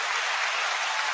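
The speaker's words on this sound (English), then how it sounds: "The applause doesn't stop." A short burst of applause sound effect plays on a podcast, a continuous hiss of many clapping hands, loud and even, with no voices.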